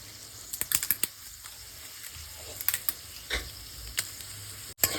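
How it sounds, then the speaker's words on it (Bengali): Whole cumin, whole garam masala, dry red chillies and bay leaves frying in hot oil give light crackling sizzles and scattered sharp pops and clicks, quiet and close, with no talking. "খুব ভালো করে ফোড়নটাকে ভেজে নেব যতক্ষণ না সুন্দর একটা গন্ধ বেরিয়ে আসছে"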